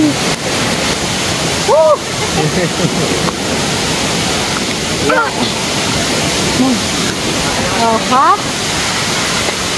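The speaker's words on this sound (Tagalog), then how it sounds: "Yung waterfalls" A waterfall at a nature camp rushes steadily as a broad, continuous roar close by, with people shouting and whooping over it at moments.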